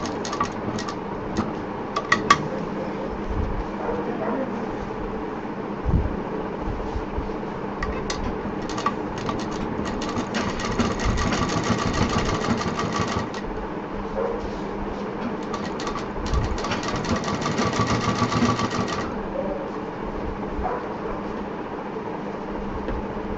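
A sewing machine stitches a zip into a handmade handbag, running in long mechanical bursts of rapid clatter with short pauses between runs.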